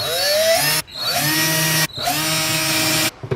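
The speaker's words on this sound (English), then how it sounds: "now we're just going to drill" A power drill whines loudly up close in three separate bursts, each cutting off abruptly, as holes are drilled one after another.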